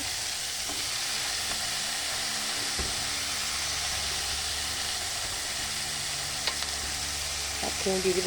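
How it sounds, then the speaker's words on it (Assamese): Potatoes and greens sizzle in a pan with a constant hissing fry, broken by occasional light clinks and scrapes of stirring. "অকণমান আলুখিনি অকণমান ৰঙচুৱাকৈ ভাজি তাৰপাছতে শাকখিনি দি দিব"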